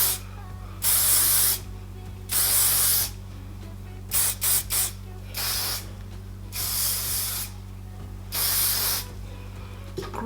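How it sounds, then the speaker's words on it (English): Hairspray hisses from an aerosol can onto hair in a series of short bursts, some quick and clipped and others held for about a second, all close and clear with no talk over them. "I'm just gonna put a little bit of hairspray in it before I let everything down."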